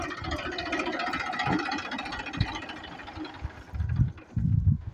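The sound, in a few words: tractor engine pulling a two-disc rotating plough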